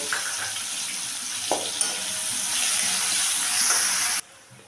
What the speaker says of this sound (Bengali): এখন আমি এটার মধ্যে একটু পেঁয়াজ দেব একটু কুচনো পেঁয়াজ আমি দিলাম এটার মধ্যে পেঁয়াজটাকে একটু ভেজে নেব